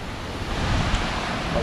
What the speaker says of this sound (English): exactly, this is a stream,